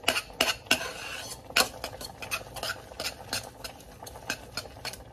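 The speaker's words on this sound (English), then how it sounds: "Stir, stir, stir." Noodles being stirred in a pan with a utensil, sharp scraping clinks against the metal at an irregular rhythm, with a faint sizzle underneath, close and fairly quiet.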